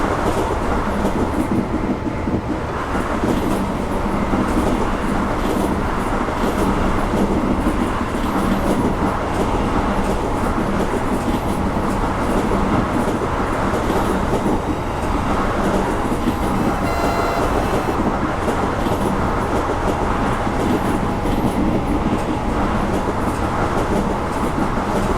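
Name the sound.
BB 22200 locomotive running in video game Train Simulator Classic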